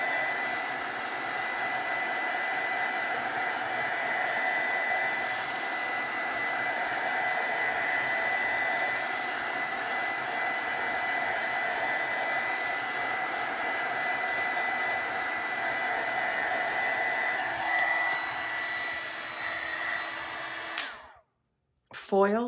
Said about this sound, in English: I don't know that I like using the heat gun on this